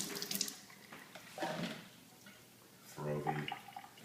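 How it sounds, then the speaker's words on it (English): Spinach being rinsed under a running kitchen tap, with water splashing in bursts that rise and fall, close by. "I just give it a good rinse either way."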